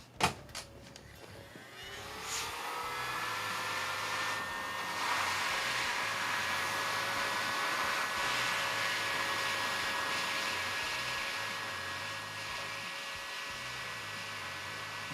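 After a few quick clicks, a heat gun roars up to a steady, loud blowing whir with a faint whine as it shrinks heat-shrink tubing on a digital coax cable, running alone without speech.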